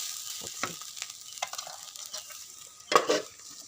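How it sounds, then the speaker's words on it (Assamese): Dried small shrimp fish frying and being stirred in a pan, a faint, soft sizzle broken by occasional scrapes and a sharper clatter near the end, close and quiet. "মাছটো লৰাই বগৰাই পুৰি আছোঁ"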